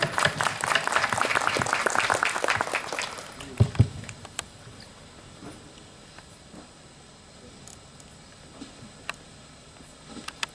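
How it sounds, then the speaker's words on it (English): A school audience at a Republic Day celebration gives the principal a big round of applause. The clapping is loud for about four seconds, then fades into a quiet hall with a few scattered taps. "Please welcome him with a big round of applause"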